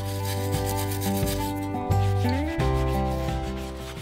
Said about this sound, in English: I get started by using a wire brush to remove the loose paint and rust.